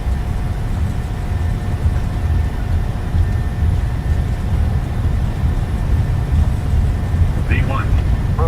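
A PMDG airliner rolls down the runway for takeoff from Oslo in Microsoft Flight Simulator 2020, a steady, loud engine rumble continuing throughout while voices call out in the cockpit.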